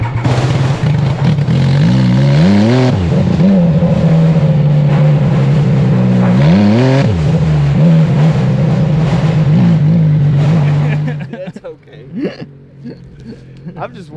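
A Triumph 955cc Dragster motorcycle is push-started and its engine rumbles loudly nearby, revving up and down several times before dropping off, with people talking over it.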